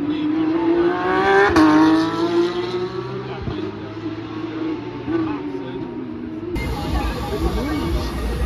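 Formula 1 race cars in Montreal drive past with a sustained, rising engine whine that builds and fades, loud and continuous over crowd noise and people talking nearby.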